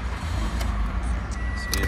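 A 2015 Toyota Corolla with about 101,000 miles idles low and steady close by, a rumbling engine note with a few small clicks over it.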